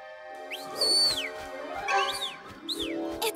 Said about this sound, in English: There, a bird.